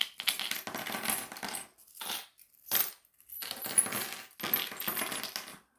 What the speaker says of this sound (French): je suis pas obligée de les secouer, mais je vais vraiment les égrener.